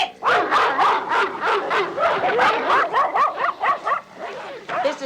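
Several dogs barking and yipping excitedly in rapid, overlapping bursts, close and loud, with a voice shouting over them in a rural 1980s setting.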